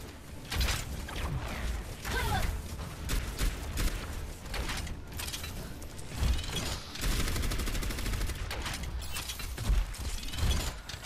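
Weapon fire in the video game Overwatch during quick play, a dense run of rapid shots with clanking mechanisms and impacts, loud and continuous over several seconds, with brief lulls and no talking.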